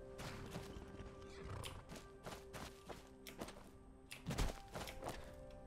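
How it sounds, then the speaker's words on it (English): A horse in the video game Skyrim neighs and whinnies between clopping hooves and dull thumps, close and moderately loud, with no talking. "Alright horse, just wait here."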